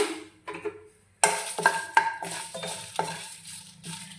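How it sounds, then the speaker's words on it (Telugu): Dried red chillies and cumin seeds fry in a pan for a peanut chutney, giving a light sizzle with clinks and scrapes of stirring that start after a brief quiet pause and carry on unevenly. "ఎండుమిర్చి వేగేయండి జీలకర్ర వేస్తున్నాను"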